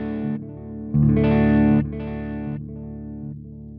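A 1979 Greco Les Paul electric guitar played through its wide-range neck pickup into a delay and reverb pedal gives several sustained, bassy distorted chords, loud and close, with echoes trailing after each one.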